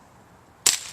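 A single sharp, loud crack from a CO2-powered BB rifle or revolver, a sudden snap with a brief hissing tail after near silence.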